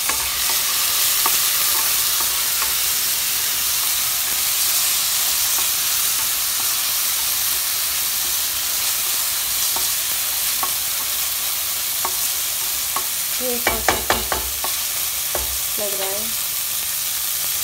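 Green peas stir-fry in a pan for a vegetable pulao, a loud, continuous close sizzle with regular stirring scrapes and a burst of metallic clinks near the end, while someone speaks briefly.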